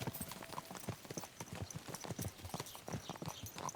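Horse hooves clip-clop steadily in Kingdom Come Deliverance II, an even walking rhythm of close, crisp hoofbeats with faint game ambience underneath and no talking.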